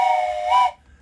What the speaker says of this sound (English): So here's that train whistle.